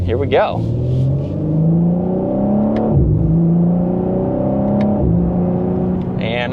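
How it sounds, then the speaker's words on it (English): A 2025 BMW M4 Competition Convertible pulls away under hard acceleration, its engine note rising steadily through a gear change with a brief dip near the middle, loud and close, while a person speaks briefly at the start. "we are ready for one last acceleration in the M4."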